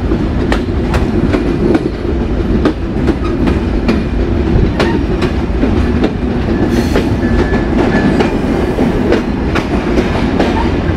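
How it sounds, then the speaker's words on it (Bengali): Rupsha Express intercity train with Inka coaches at Mobarakganj railway station in Bangladesh, heard up close as a loud, steady rumble with rhythmic clickety-clack of wheels over rail joints throughout, no voices. "এই যে ইনকা কোচ নিয়ে দাঁড়িয়ে আছে ইন্টারসিটি রূপসা এক্সপ্রেস।"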